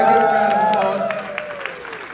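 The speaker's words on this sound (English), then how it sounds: "Everybody give her a round of applause." Applause and crowd cheering from an audience at an open mic comedy show, a short burst under a talking voice, fading over a couple of seconds.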